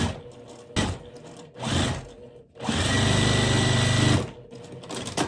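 A sewing machine stitches a flying geese quilt block in short bursts, then in a longer, steady run of rapid, even mechanical stitching, close and loud.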